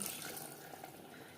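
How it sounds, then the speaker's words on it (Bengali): Water used for rinsing spices pours into a pan of mutton curry, a short soft steady splash and gurgle, faint and close, with no voices. "দিয়ে দেবো জল এখানে আমি মশলা ধোয়া জল ব্যবহার করলাম"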